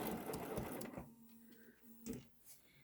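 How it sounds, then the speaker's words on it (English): Sewing machine topstitching around the edge of a fabric face mask, a fast rattling stitch run for about a second that then drops away to quiet, with a few faint clicks and shifts of fabric afterward. "you're going to do 1/4 of an inch top stitching all the way around"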